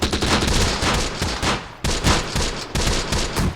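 A .30 cal machine gun fires at a sniper in the Close Combat: The Bloody First night battle of Operation Husky, three loud sustained bursts of rapid shots separated by short breaks.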